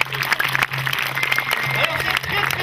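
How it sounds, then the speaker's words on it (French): Crowd applauding at an outdoor birds of prey show, a sustained mass of clapping with a steady low hum beneath and some faint voices mixed in. "Allez, vous pouvez applaudir à celui-ci."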